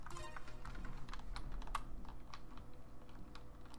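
Rapid computer keyboard typing, with mouse use mentioned, during a game session; dense, steady clatter of keystrokes continues throughout at moderate closeness with no talking.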